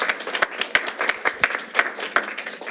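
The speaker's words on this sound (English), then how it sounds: "let's give a big round of applause and a warm welcome to Dr. Dyer." An audience at an early-morning academic talk claps to welcome a speaker, a brisk scatter of sharp individual claps from a modest crowd, close and lively, with no talking.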